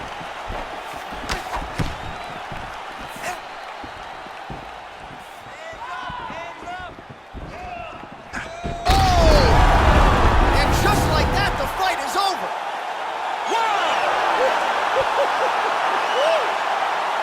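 Virtual arena crowd in the EA Sports UFC 4 fighting game surges into a loud, sustained roar of cheering after a fight-ending knockout, swelling abruptly midway and staying dense to the end, with game commentary voices running over it.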